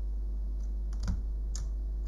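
Keys are typed on a faulty EGL laptop keyboard being tested, giving a few soft, close clicks spread irregularly over a quiet background hum.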